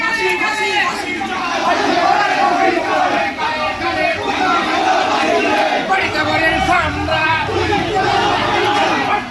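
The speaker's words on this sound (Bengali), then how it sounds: "তারা নানা স্লোগান দিচ্ছেন।" BNP supporters chanting slogans at a rally in Chakaria, a loud, dense crowd of voices shouting together continuously throughout, with rhythmic chant phrases rising over general crowd noise.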